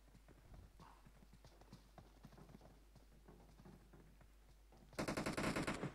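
AKM assault rifle gunfire in the video game PUBG, a loud rapid automatic burst near the end after quieter footsteps and rustling, close and dominant.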